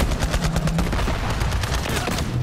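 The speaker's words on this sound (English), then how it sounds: "They're shooting at us." Enemies firing at the player in the Borderlands 3 video game: rapid bursts of gunfire crackle continuously and loudly for the whole stretch, with dense overlapping shots and no pause.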